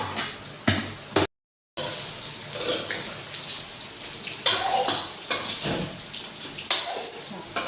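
Sesame seeds crackle and sizzle loudly in hot oil for tempering patra, with bursts of spattering and a brief silent gap near the start, then steady popping that swells and fades.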